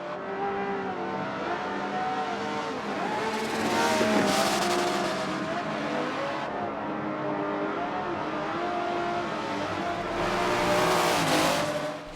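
Racing cars, including a Ferrari, in the Forza video game roar along the track with engines revving and shifting, tires squealing and skidding in the corners, loud and continuous, with surges as they accelerate.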